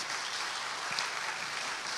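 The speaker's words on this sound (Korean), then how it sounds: "우리 격려의 박수 한번 부탁을 합니다" Warm, steady applause from a church congregation at a special early-morning prayer service, a dense, even wash of many hands clapping, moderately soft and continuous.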